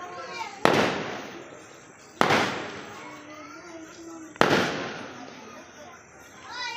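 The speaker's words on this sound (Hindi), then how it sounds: "तो चलिए आपको दिखाते हैं, पटाखे चल रहे हैं।" Three loud firecracker bangs go off about two seconds apart at a wedding procession, each followed by a fading echo, with faint voices in the background.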